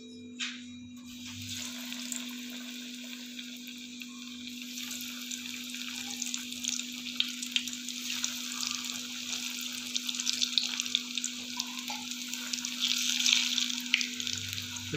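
Oats-coated paneer pieces fry in oil with a steady, faint sizzle and bubbling that runs unbroken throughout, quiet and alone.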